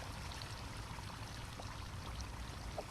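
Large amounts of water draining away in the DrainSim video game, a continuous rushing flow with a faint trickling edge and no talking.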